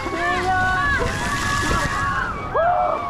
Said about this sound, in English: Water jet!